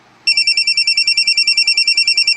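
A phone ringtone for an incoming call starts abruptly and repeats a rapid, even electronic trill of high chirping pulses, loud and close, with no talking.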